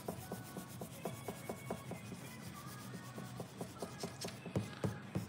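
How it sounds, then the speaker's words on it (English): Pencil lines being rubbed out on a paper drawing of cartoon characters, a quick rhythmic series of soft scrubbing strokes, close and fairly quiet, speeding up slightly toward the end. "I'm just gonna rub out some of these lines."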